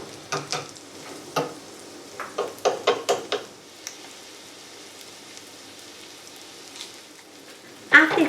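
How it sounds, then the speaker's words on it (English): An egg and vegetable mixture for Korean street toast fries in butter and olive oil in a pan, giving a soft, faint sizzle. Several sharper clicks and scrapes from stirring or shaping come early on, and a louder scrape near the end. "Once the butter is melted, add the ingredients and make it like a square to put on the toast."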